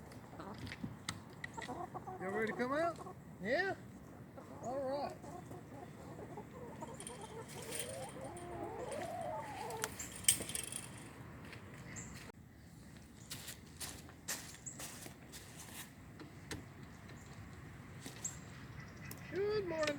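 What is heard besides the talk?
chickens clucking in backyard coop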